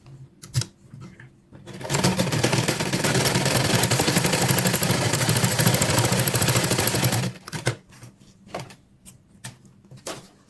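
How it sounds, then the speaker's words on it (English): A sewing machine stitches elastic onto a skirt in one loud, continuous whirring run of about five seconds, with a few short fabric-handling clicks before and after. "I'm just going to go ahead and sew my elastic like this."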